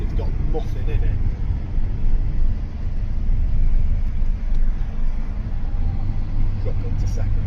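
Petrol van engine while driving, a steady loud low rumble and road drone with little variation, heard close from inside the cab.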